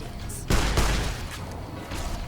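Gunfire in Fallout: New Vegas, a sharp burst of shots about half a second in with a second crack soon after, heard at middle distance over a steady game background.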